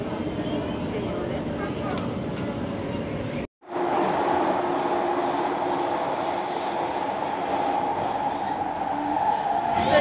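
Passenger train ride in Singapore heading toward Marina South Pier, steady rumbling rail noise with wheel clatter heard from inside the carriage, a brief dropout partway, with people speaking over it.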